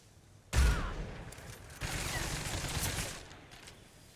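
Rifle fire in the Metal Gear Solid 3 Snake Eater finale: a sudden loud blast followed by sustained rattling gunfire and scattered shots over about three seconds, trailing off, with faint game background noise.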